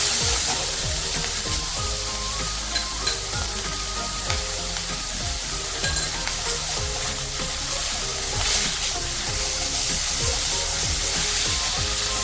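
Tomatoes and coconut sizzle and fry in a pan with salt, a steady close crackling hiss with occasional stirring scrapes throughout, no talking.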